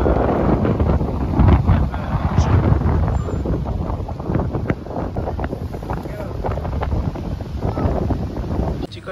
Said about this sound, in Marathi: बघू शकता तुम्ही किती हवा चालू आहे.